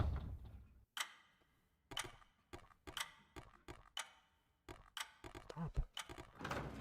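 Loud, sharp ticks from a clock in a spooky video game, striking roughly once a second in a slightly uneven rhythm, with faint mechanical clicking and no talk.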